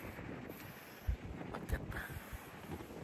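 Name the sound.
wind at the beach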